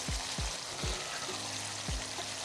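Cut potatoes frying with spices for a village-style Bengali chicken curry, a steady sizzle with four or five low thumps as pieces drop into the pan or are stirred.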